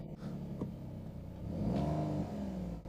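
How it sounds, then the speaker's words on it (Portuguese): An Alfa Romeo Giulia Quadrifoglio engine cranks and catches, rising into a low steady idle rumble, close and moderately loud with no talking. "Vou ligar o carro."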